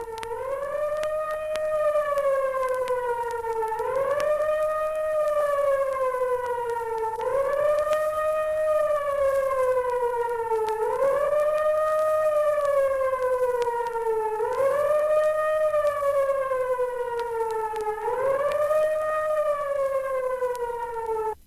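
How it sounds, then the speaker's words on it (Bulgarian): A civil defense air raid siren sounds its intermittent warning: about six loud, steady wails in a row, each rising sharply and then sliding down before the next one starts, with no voices. "Сигналът въздушна опасност. Подава се с прекъсващо свирене на сирените"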